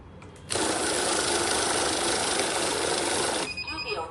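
A cash counting machine in Theni runs a stack of banknotes, a loud, steady whirring rush that starts abruptly, holds for about three seconds and cuts off sharply, with faint talk before and after.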